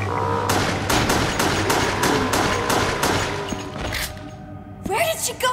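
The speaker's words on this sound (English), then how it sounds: "Gunshot! Back there!" Gunshots ring out in the Resident Evil: The Darkside Chronicles video game, a rapid run of sharp, loud reports, followed by a brief scrape and then further noise.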